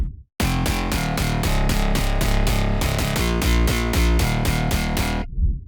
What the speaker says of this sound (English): So the mid bass altogether sounds like this.